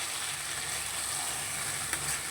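Spice paste with a small tomato fries quietly in a pan, giving a soft, steady sizzle close by with a brief clink near the end.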